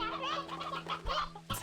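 Roosters and chickens cluck in the farming video game Slime Rancher 2: a run of quick, nasal clucks and chatter, moderately close, followed by a sharper sound near the end, with no voices over them.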